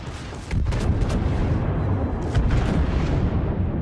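Heavy naval guns boom from a battleship firing high-explosive shells in World of Warships, a loud dense rumble of blasts starting half a second in and rolling on continuously with repeated heavy reports.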